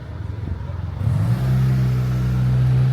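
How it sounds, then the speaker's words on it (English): A bus pulls away from the central bus station in Catania, Sicily, its engine rumbling close by, then rising into a loud, steady droning hum as it accelerates. "Oh no, my bus leaving."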